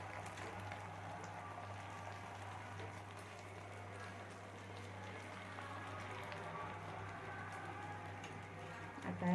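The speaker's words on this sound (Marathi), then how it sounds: "हे आपण मिश्रण हे तव्यावर घातले." Beaten egg and cheese omelette mixture sizzles in hot oil on a griddle pan, a faint steady crackle with a low hum underneath and no talking.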